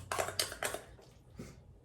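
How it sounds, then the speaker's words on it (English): A spoon scrapes and clinks against a tuna can and bowl while canned tuna is scooped out beside onions and beans, four quick close metallic taps in a short rhythmic run, no talking. "we're just gonna scoop the tuna out, put it on into the bowl with the onions and the beans"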